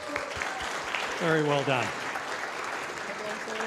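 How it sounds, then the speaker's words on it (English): Audience applause at a university innovation challenge pitch event, a broad steady wash of clapping under a host's voice speaking briefly over it. "One more round of applause, please"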